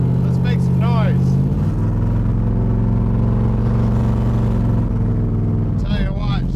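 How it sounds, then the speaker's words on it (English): A 1953 Ford F100 pickup restomod with side pipes runs close by at a steady, loud idle, its deep engine rumble holding throughout while people talk briefly at the start and end. "she sounds amazing with those side pipes"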